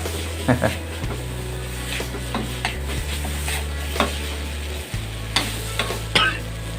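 Steady sizzling of curry paste for chu chee catfish in a pan, with scraping stirs at irregular intervals, close and fairly loud, under a low constant hum; no talking.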